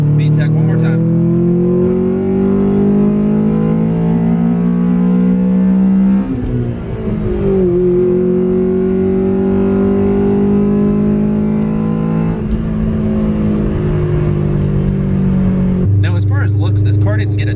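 A Honda Civic Si EM1 engine revs hard into VTEC several times, rising pitch sweeps broken by shifts, loud and close inside the car with a voice talking over parts of it.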